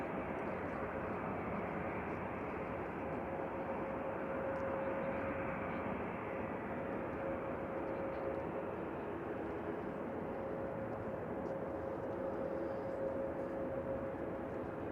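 A Loganair airplane arrives, its engines a steady, distant broadband roar holding for the whole stretch with a faint tonal whine over it.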